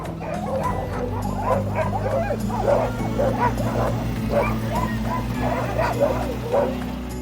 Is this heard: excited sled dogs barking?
yes